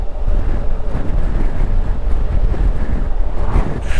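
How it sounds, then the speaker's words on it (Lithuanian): Strong wind roars and buffets the microphone during a motorcycle ride along the Atlantic Ocean Road in Norway, a steady loud low rumble with gusty swells throughout. "Vėjas tai labai stiprus."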